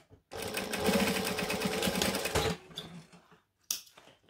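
A sewing machine stitches a bag in one loud, close run of fast rhythmic chattering that lasts about two seconds, then stops. Brief handling noises follow.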